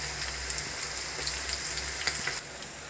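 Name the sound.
spring onion bonda batter frying in hot oil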